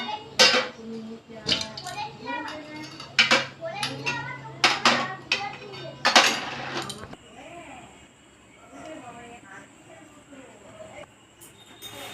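A metal lid comes off a pot and steamed egg bowls are lifted out, giving a run of sharp clanks and clinks of metal and crockery, then a quieter stretch with a faint steady hiss.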